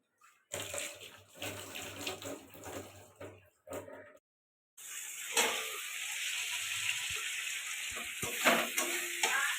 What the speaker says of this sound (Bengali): চিংড়ি ভাজাটা হয়ে গেছে